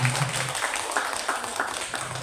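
Audience applause at a school gathering at SMP Negeri 1 Paciran: a dense, steady wash of many hands clapping together for about two seconds, fairly close and even in loudness.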